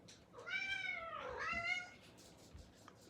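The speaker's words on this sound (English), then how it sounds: "That's my cat." A pet cat lets out one long, drawn-out meow close by that rises and falls over about a second and a half, with a quiet room behind it.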